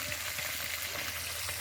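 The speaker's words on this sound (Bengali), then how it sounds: "মাছগুলো খড়া খড়া করে যাতে ভাজা হয়" Bhetki fish fry in oil in a wok over a wood-fired stove, giving a steady, faint, even sizzle and crackle with no talking.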